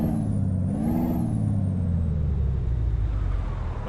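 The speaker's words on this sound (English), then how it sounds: "So our truck is super loud." A heavy truck engine in American Truck Simulator rumbles loudly and continuously, a deep droning roar with a whining tone rising and falling on top.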